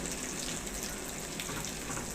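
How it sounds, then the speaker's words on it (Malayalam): Soya chunks frying in hot oil in a pan: a dense, steady, close sizzle with crackling bubbles, continuous and loud throughout. "എണ്ണ ചൂടായി നമുക്കിത് ഇട്ട് കൊടുക്കാം കുറച്ചിട്ട് വറുത്തെടുക്കാം"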